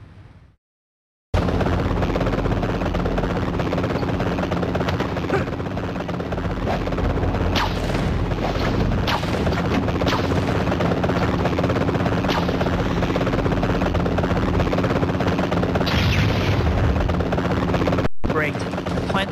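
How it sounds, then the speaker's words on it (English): A helicopter in the PSP game Spider-Man 3 drones loudly and continuously with a steady rotor roar, beginning abruptly after a brief silence and holding level to the end. "Follow that copter."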